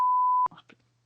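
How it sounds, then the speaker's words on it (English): A censor beep from a single steady electronic tone holds loud and unbroken for about half a second, then cuts off abruptly, leaving faint voices and low hum behind it. "We'll have to do a beep."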